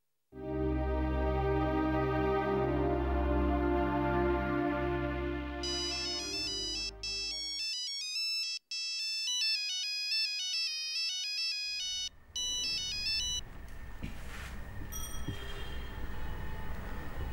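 A phone ringtone signals an incoming call, starting with a loud sustained melodic tone and moving into bright repeating beeping phrases with brief gaps. Toward the end it fades into a softer noisy background.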